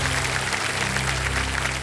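A studio audience at the Kaun Banega Crorepati quiz show claps loudly and continuously, a thick, even wash of applause filling the room with no voices standing out.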